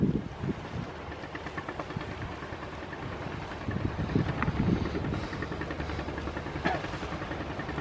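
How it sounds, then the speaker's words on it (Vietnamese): A fishing boat engine, just started off Phú Quý island, rumbles and idles steadily, low and continuous, with outdoor noise and faint clatter on top, no talking. "Đây, đã nổ máy lên rồi này."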